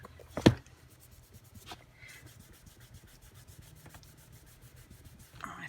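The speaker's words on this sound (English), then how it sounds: "I think I have to rub with my other arm" Hand rubbing over an old, well-worn journal cover, with soft, irregular scuffing and brushing strokes close by, one sharper knock near the start and quiet handling noises throughout.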